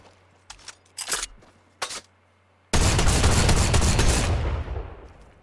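Drum shotgun in Fortnite fired at a wooden structure, a few separate sharp blasts followed by a dense, rapid burst of shots that rings out loud and then fades.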